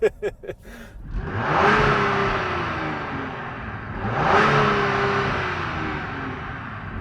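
The turbocharged EcoBoost engine of a 2025 Ford Explorer ST SUV revs up twice with rising whine and roar, each surge swelling then easing back to idle, heard close with a brief sound at the start.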